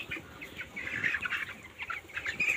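Broiler chickens in a village poultry farm keep up a steady, overlapping chorus of soft clucks and chatter, fairly close and continuous, with no talking.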